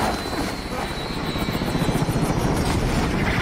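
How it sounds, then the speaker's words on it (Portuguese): A helicopter in a sniper shooter video game drones with steady rotor chop and engine whine, loud and continuous with a faint pulsing rhythm, and a faint voice may sit beneath it. "Atingiram o nosso helicóptero!"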